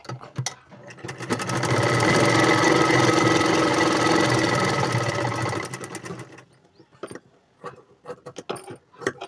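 Loud, steady whirring of a sewing machine stitching a blouse shape belt, lasting several seconds before stopping and giving way to scattered handling clicks and taps.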